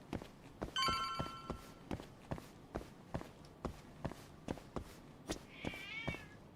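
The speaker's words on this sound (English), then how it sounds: "I hear the cats." Game cats in the video game Judgment meow briefly near the start and again near the end, over steady rhythmic footsteps and a faint telephone-like ringing tone; no one speaks.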